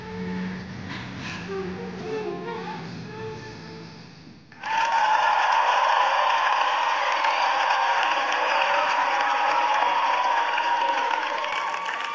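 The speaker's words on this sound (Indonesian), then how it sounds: "Sekali lagi tepuk tangan untuk My Styles Crew" Following a stretch of quieter sound, a loud burst of audience applause and cheering erupts for a dance crew on a televised dance competition stage, with whoops and shouts carrying on steadily to the end.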